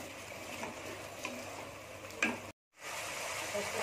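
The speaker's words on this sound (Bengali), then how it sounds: "পোস্তটা আমি ভালো করে কষিয়ে নেব।" A rohu fish curry in poppy seed paste sizzles steadily in a pan while a utensil stirs it with a few scraping strokes; the sound briefly cuts out before the frying hiss resumes.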